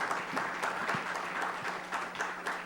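Audience applause at a forum on energy security and sovereignty: a brief, steady round of clapping from a seated crowd, moderately loud and continuous.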